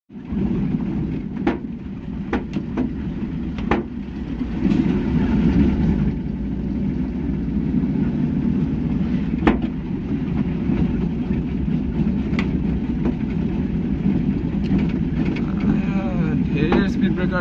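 A carrier truck loaded with furniture for delivery drives along a road at night, its engine a loud, steady low rumble with rattling and occasional knocks, with voices talking over it.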